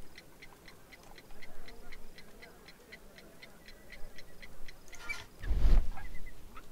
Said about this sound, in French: J'entends un tic-tac.